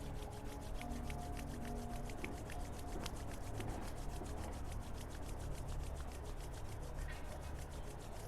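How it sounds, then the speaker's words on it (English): Palms rubbing together during a yoga session, a soft continuous brushing friction, faint and steady throughout. "Rub your hands."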